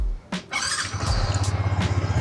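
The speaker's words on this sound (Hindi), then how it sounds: "this is how the XSR sounds. Very lean and very bassy sound" A Yamaha XSR155 motorcycle engine cranks with a short squealing starter whirr, catches and settles into a steady, deep, low-pitched idle thump, loud and close with no talking.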